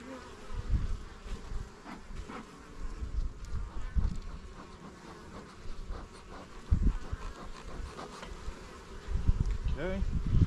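Honeybees buzz steadily around an open hive during a spring apiary inspection, a constant close drone with a few louder swells as bees fly near, while a person talks briefly now and then.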